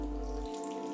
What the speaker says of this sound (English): I'm gonna take my apple cider vinegar and pour it in there.